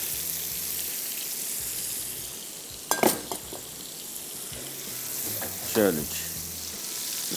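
Chicken pakoras fry in oil with a steady bubbling sizzle, broken by two brief clattering stirs in the pan; a short spoken word is heard.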